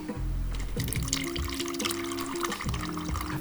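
A clarified Paper Plane whiskey cocktail is poured through coffee filter paper in a pour-over dripper, making a continuous close trickling and splashing of liquid for a few seconds.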